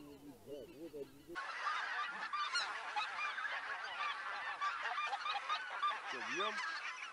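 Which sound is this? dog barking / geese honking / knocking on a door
geese honking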